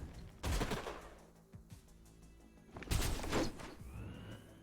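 Gunfire in the video game Age of Wonders Planetfall: two loud bursts of rapid shots separated by a quieter pause, with some metallic clanks and a rising whine near the end, no talk.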